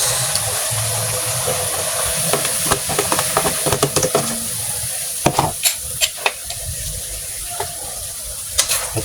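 Cabbage is stir-fried with bihon rice noodles in a hot pan, a continuous hissing sizzle under clusters of sharp spatula scrapes and clanks, close and loud, with no speech.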